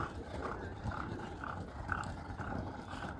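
Two bay racehorses working on the Caymanas Park exercise track, heard as a rhythmic, muffled drumming of hoofbeats over a rough, windy background at moderate distance, with no speech.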